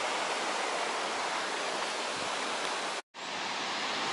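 The Mawddach waterfalls in Wales roar as a steady, loud broadband rush of falling water, close and continuous, with a brief gap near the end and no voices.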